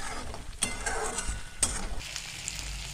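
Masala paste for matar paneer gravy sautés in oil, a soft, steady sizzle broken by two sharp spoon scrapes against the pan, with no talking.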